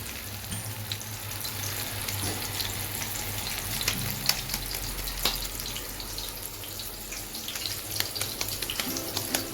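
Beef chapli kababs fry in hot oil in a pan, Peshawari style, giving a steady, close, even sizzle that continues without a break and with no voice.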